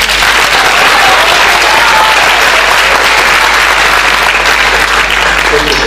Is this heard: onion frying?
no